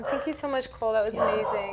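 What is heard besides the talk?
dog barking and whimpering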